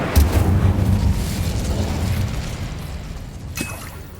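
A Bombarda blasting spell explodes in Hogwarts Legacy with a deep rumbling boom that swells quickly and fades over a few seconds, followed by a faint sharp crack near the end.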